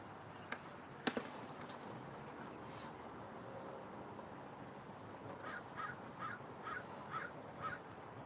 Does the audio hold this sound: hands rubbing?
no